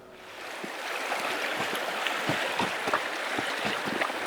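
White water rapids on a river in the Arctic National Wildlife Refuge, a broad rushing roar with sloshing splashes against a boat, building and staying loud and close throughout.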